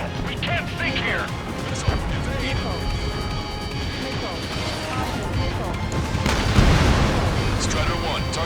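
Explosions of a destroyed naval target in Ace Combat 7 crash and boom amid jet roar and radio chatter, with a heavier blast swelling near the end under continuous combat noise.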